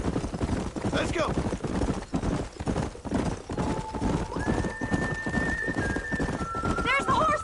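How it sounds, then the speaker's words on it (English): Horses in the Red Dead Redemption video game, hooves clip-clopping in a steady rhythm with repeated neighs and whinnies, mixed under voices and game music. "There's the horses!"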